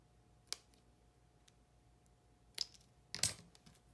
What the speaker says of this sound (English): Just snip that piece off.